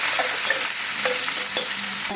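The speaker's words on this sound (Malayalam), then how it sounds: "പൊട്ടി കഴിഞ്ഞിട്ടാണ് ഇഞ്ചി കൊടുക്കാം" Ginger sizzling in hot oil with dried red chillies and curry leaves for Kerala puli inji, stirred with steady scraping and crackling throughout, close and continuous.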